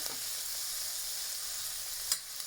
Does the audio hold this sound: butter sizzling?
yes